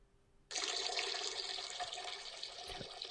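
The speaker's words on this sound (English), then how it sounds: "That just sounds like water." A soundboard effect meant to be urine hitting a toilet plays as a steady, fairly loud rush of running water, like a tap pouring, which starts abruptly and continues without talk.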